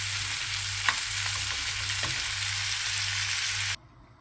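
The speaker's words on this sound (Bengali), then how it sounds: "করলা ভাজিটা আলুগুলো দিয়ে দিচ্ছি" Bitter gourd and potato pieces fry in a pan with a loud steady sizzle, marked by a couple of sharp stirring scrapes, before the sound cuts off abruptly near the end.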